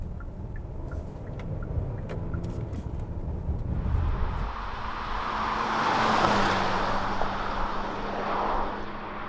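A 2020 Hyundai Palisade SUV with all-wheel drive cruises along, giving a steady, moderate blend of engine drone and road and wind noise that swells gently midway before easing off.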